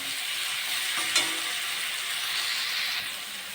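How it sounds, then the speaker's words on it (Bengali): Potatoes and pointed gourd sautéing in spiced oil, with a dense continuous sizzle and one quick knock of the spoon against the pan. "ভালো করে কষে নেব।"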